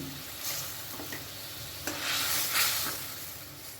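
Fried eggplant goes into a pan of curry broth over a high gas flame, giving a steady close sizzle with stirring scrapes and a few louder bursts as the pieces drop in.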